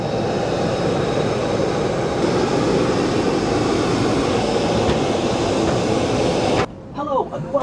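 Steady, loud cabin roar inside a Jet2 passenger airplane before a flight to Tenerife, a broad constant hum that cuts off abruptly near the end, followed by a brief voice.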